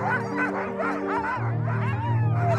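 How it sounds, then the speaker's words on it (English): Greenland sled dogs bark and yip in a steady cluster of overlapping calls with some whining, close and clear, with no talk. "Greenland dogs are perfectly adapted for expeditions in the extreme climate of the far north."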